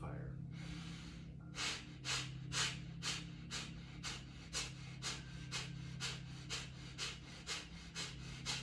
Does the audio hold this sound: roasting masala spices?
no